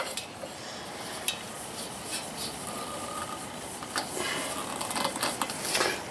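Metal propane tank hose fitting being screwed on tight, giving scattered faint clicks and scrapes of metal against metal over low background hiss, growing a little busier toward the end.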